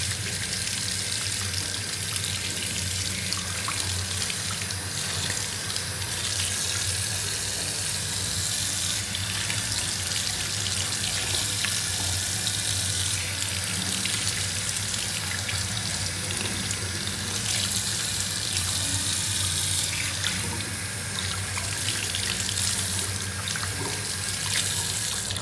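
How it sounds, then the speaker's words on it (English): Tap water runs steadily down a sink drain while a drain cleaner is being tested, a constant close hiss and gurgle of flowing water with no voices, unchanging for the whole stretch. "open this tap and see what happens"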